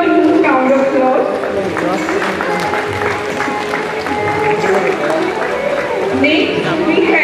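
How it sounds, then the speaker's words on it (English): An audience claps at a school centenary valedictory celebration, a steady wash of applause from a hall full of people, with a voice talking over it throughout. "Please give me one huge round of applause."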